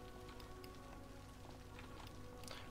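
Steady, faint rain falls across a city in Cities: Skylines, a soft continuous patter with light scattered drop ticks and no voices.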